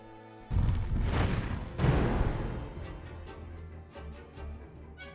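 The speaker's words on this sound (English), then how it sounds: "I try to do flash fire on him" Flash fire spell cast in the video game Arcanum: two loud, roaring fiery bursts in quick succession, each with a sudden onset and a rumbling tail that fades into softer crackles.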